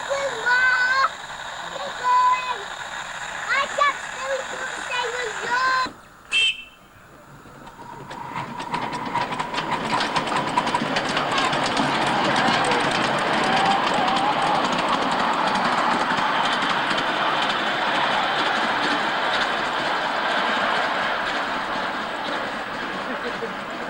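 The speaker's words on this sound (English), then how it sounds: "And youngest son Roger assists the driver of the miniature railway to top up the loco's water tank." A miniature railway steam locomotive at Wetheriggs runs with a steady, close rumbling chuff and rail clatter that builds and holds loud, after a few seconds of quieter background voices.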